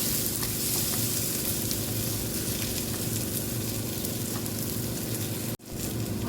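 Stuffed brinjal masala sizzles and crackles loudly in a hot pan as it is stirred, a dense, continuous frying hiss broken by one brief clunk near the end.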